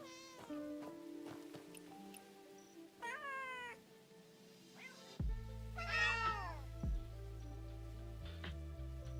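Cat meowing in several drawn-out, rising and falling calls, close and fairly loud, over a low steady hum.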